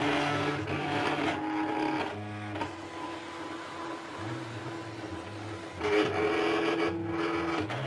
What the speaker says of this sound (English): The machine is picking up all the registration marks, and then it's going to start cutting around the image